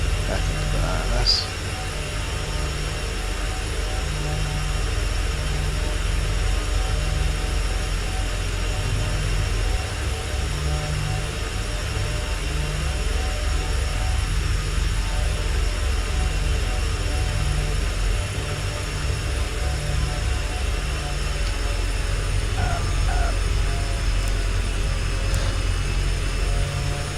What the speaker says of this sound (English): because this is a turbine, I have reverse thrusters